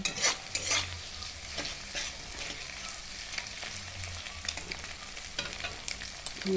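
Egg frying in hot oil until crisp, a close crackling sizzle with bursts of stirring and scraping in the pan and a few sharp spits, moderately loud with no talking.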